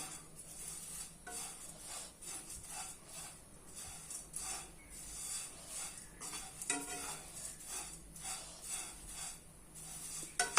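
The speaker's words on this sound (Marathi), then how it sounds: "भाजण्यासाठी असं मध्यम आचेवर पोहे आपण भाजून घेऊयात" Flattened rice (poha) dry-roasting over a medium flame, stirred in a pan: repeated scraping and rustling strokes with light clinks of the spoon against metal, close and fairly quiet, no talking.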